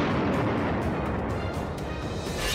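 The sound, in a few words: Minuteman III intercontinental ballistic missile launch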